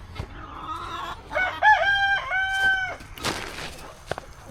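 A rooster crows loudly and close by in a long drawn-out call, with hens clucking around it in a backyard flock that includes a guinea fowl.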